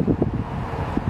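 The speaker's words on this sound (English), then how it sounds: "we're having wind gusts up to like 50 miles an hour right now" Strong wind gusts blow on a smoky residential street in Oregon during wildfires, a steady low rushing roar buffeting the microphone with brief thumping surges.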